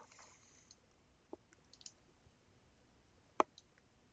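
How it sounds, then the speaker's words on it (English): Two sharp, isolated computer mouse clicks in a quiet room, close and crisp, with a few fainter ticks between them. "So let's click there."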